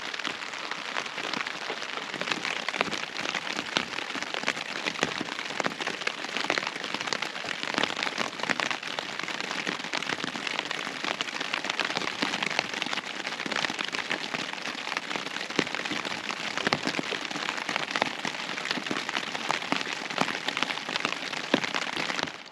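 Steady rain patters on a wild camp on Silver How, a dense, even hiss of drops on a surface running unbroken and close throughout, with no voices.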